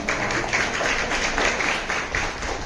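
A group clapping together for young women at a devotional singing gathering, with steady, fairly even rhythmic claps at moderate loudness and no voices over them.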